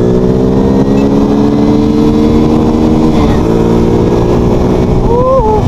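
A fuel-injected Shineray Rio 125 motorcycle is ridden at speed, with a loud, steady engine drone and gradually shifting pitch as it accelerates, buffeted by wind noise and a rising tone near the end.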